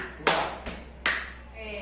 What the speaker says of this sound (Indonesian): Jadi kalau saya bilang 1, silakan kelompok ini bertepuk.